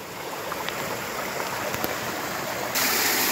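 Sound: Khardu stream water babbling over a waterfall

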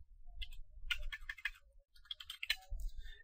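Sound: typing ifconfig on a computer keyboard

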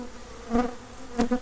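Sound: honey bees buzzing at hive

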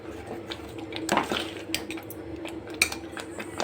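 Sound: mixing puliyogare rice with gojju and powder

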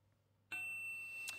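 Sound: text message notification sound

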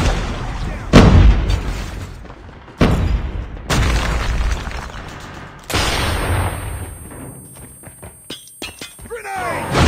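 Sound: grenade explosion in a video game

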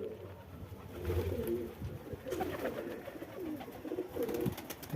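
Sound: pigeons cooing in a home pigeon loft

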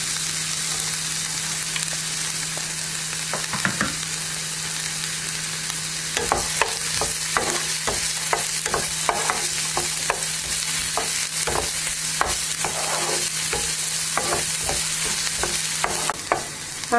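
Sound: onions and green chilies frying in oil

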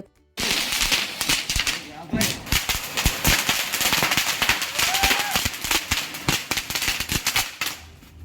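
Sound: firecrackers being burst for Diwali

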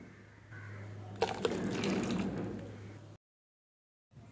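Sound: water poured into palm jaggery coconut milk mixture

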